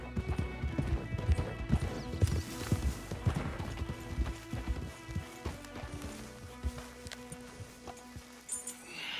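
Horses' hooves clip-clopping in the Western video game Red Dead Redemption 2, a fast run of close hoofbeats that slows and thins out toward the end, with faint background sounds and no talk.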